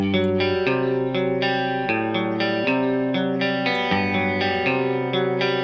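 A clean electric guitar tone with a slight honky midrange playing sustained chords that shift every second or so, bright and full, with a light effects shimmer.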